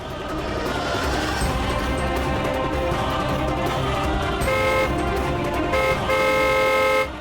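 A car horn toots twice as a shiny car arrives, each short blast cutting through the steady hum of the vehicle nearby, loud and close with no talking.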